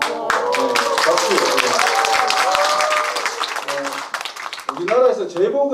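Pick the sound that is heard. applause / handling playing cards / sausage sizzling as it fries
applause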